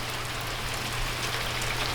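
Steady outdoor rainfall, a dense, even hiss of drops pattering on surfaces, fairly loud and continuous with no voices.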